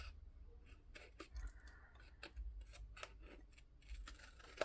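Scissors snipping mitered corners into paper squares, a series of quick, crisp, close cuts in irregular bursts over faint background hum, with no talking.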